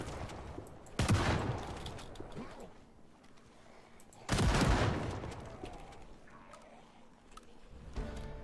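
Two heavy shotgun blasts fired in the Project Zomboid video game, several seconds apart, each loud and close with a long rumbling tail that fades into low background noise.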